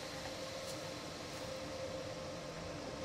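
Steady train noise in Train Sim World 3 with a BR182 locomotive in Germany, a continuous close mechanical hum with a constant tonal whine running evenly throughout.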